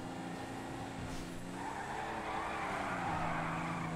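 A stolen police car in the video game GTA slides and skids, its engine roaring steadily under a rising tire squeal, loud and continuous.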